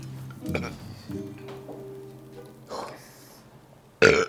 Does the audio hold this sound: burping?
yes